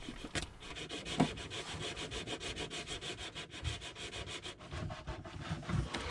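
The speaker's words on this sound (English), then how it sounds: "I used the Bosch sander for sanding all of this" A Bosch power sander rubs steadily over cured glue on a boat bulkhead, a quiet continuous buzzing scrape with slight swells in intensity.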